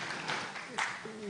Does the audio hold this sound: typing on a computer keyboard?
no